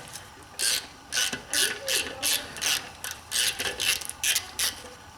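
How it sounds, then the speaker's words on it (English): A ratchet clicks in a run of about a dozen evenly spaced bursts as it works a rusty Allen bolt loose on a BMW 5 Series F10 front brake caliper, loud and close. "put pressure on the Allen to break it free"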